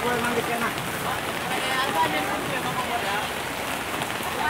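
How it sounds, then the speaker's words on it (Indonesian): Rain patters steadily on surfaces at a traditional village market on an afternoon, a dense, even hiss of drops that is not yet heavy, with people talking faintly in the background. "Ini suasananya diguyur hujan ya"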